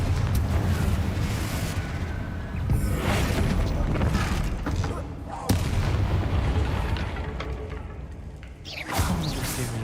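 Repeated Confringo fire spells explode in the video game Hogwarts Legacy during a fight against Inferi, each a heavy booming blast with a whooshing burst, loud and closely spaced, rolling one after another over rumbling game sound.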